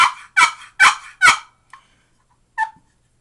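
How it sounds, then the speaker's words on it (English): A wooden turkey box call is scraped in four loud, rapid yelps close by, followed by a pause and one more short, sharper note. "A box call, as you can hear,"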